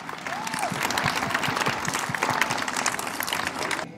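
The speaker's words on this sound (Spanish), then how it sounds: "¿Cómo ven si le damos un fuerte aplauso a nuestra muy querida ciudad para desearle un muy feliz cumpleaños?" A festive crowd in Chihuahua celebrating the city's 314th anniversary breaks into strong applause, a dense roar of clapping with some crowd noise and a few scattered cheers mixed in.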